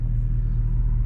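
Deep low rumble of a Dodge Charger engine accelerating, steady and close in a brief burst.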